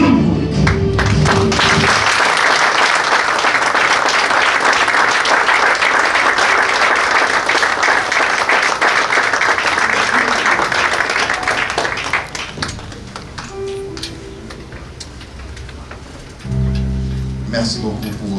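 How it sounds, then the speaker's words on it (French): Sustained applause at a vernissage greets a speaker, loud and dense for about twelve seconds before tapering off, with a voice speaking at the start and again near the end. "Merci beaucoup pour vos applaudissements."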